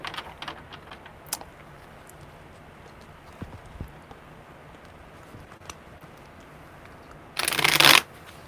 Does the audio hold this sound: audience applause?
no